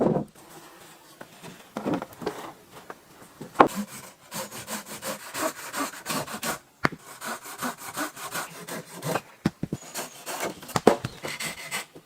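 A handsaw cutting wooden pegs to length for an off-grid stone and wood cabin in the forest, with close, uneven bursts of rasping strokes separated by short pauses.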